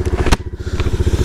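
A Rusi Classic 250 FI motorcycle idles close by at dawn, its single-cylinder engine pulsing in a fast, even thump with a couple of sharp clicks on top.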